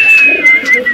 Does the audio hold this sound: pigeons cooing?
yes